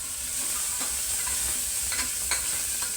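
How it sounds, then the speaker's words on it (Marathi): Onion is fried and stirred in a pan for dal khichdi, with a constant hiss of sizzling and a few scrapes of a spatula, close and steady with no speech. "आता टाक कांदा, लाल होतोवर त्याला घे परतून।"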